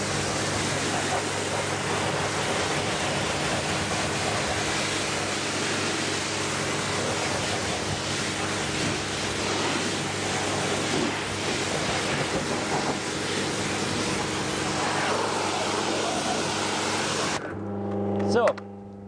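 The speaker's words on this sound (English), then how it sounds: "ready to rinse this one down too. So, whoop, pressure washer" A pressure washer rinses down a van's wheel arch, producing a loud, continuous broadband spray roar close to the microphone that holds steady for about seventeen seconds before cutting off abruptly, followed by a brief mechanical whine.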